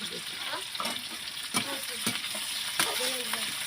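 Onion sizzles in a pan over a fire of burning dung cakes, a steady close frying hiss broken by a few sharp scrapes and clinks of stirring.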